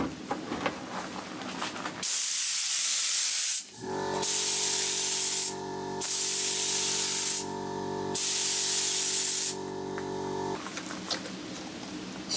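Spray gun laying golden flake paint on a Suzuki GN250 fuel tank: four bright, steady hissing bursts with brief gaps, close up, over a faint background hum and no speech.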